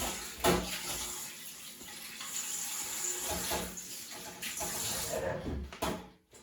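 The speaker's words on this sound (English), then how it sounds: "And you just wash it enough so that all that salt residue is out." Sea moss being rinsed under a running kitchen tap to wash out salt, a steady close hiss and splash of flowing water with brief handling knocks, continuous until it cuts off near the end.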